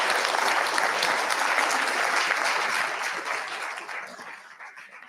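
An audience at a civic discussion event applauds its presenters, a full, even roar of clapping that holds for a few seconds and then gradually thins and fades out.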